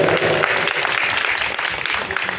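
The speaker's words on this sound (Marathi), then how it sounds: "श्रोत्यांना विनंती, टाळ्यांचा गजर करायचा आहे" An audience claps at a large international gathering of saints in Dhamangaon, Bhiwandi, with a dense, steady burst of applause that fills the short stretch at close range.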